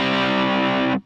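Electric guitar through an Ibanez MS10 Metal Charger pedal set to crunchy distortion, a single loud sustained chord ringing for about a second before cutting off abruptly.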